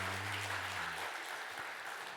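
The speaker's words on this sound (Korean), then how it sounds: "환영의 박수 한번 하도록 할까요?" A church congregation applauding steadily during a Sunday service, dense and sustained, with a low sustained tone fading out early on.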